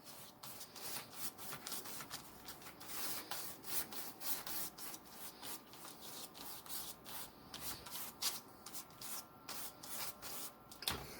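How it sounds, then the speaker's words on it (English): A paintbrush sweeps lightly over canvas with acrylic paint in fast, repeated soft scratchy strokes, faint and close, steady for several seconds with no talk. "Just by brushing it lightly."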